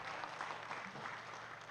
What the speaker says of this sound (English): Please clap for him very well.